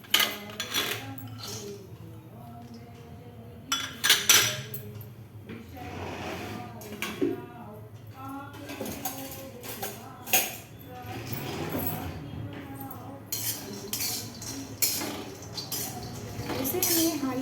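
Peanuts are stirred in a hot kadhai over high to medium flame, a busy clatter of nuts and spoon scraping against metal in irregular bursts, with background music and occasional speech.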